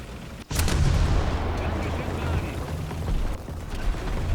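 Tank cannon fire in War Thunder during a snowy German tank battle: a sharp, loud blast followed by a sustained rumbling roar of engine and battle noise, with a voice speaking over it.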